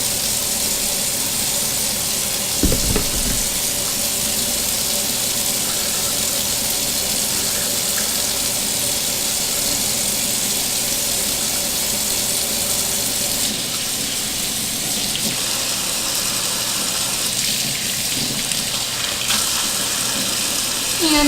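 Tap water runs steadily into a sink while makeup brushes are rinsed, a loud, constant gush with a brief bump early on and slight shifts in tone as the flow is disturbed.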